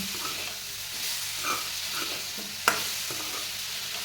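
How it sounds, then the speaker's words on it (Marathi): A spoon stirs a thick lime pickle mixed with jaggery and sugar, a steady soft scraping and squelching with a few sharper clicks against the pot, no voices. "आता हे सर्व आपल्याला पुन्हा एकदा छान असं मिक्स करून घ्यायचं"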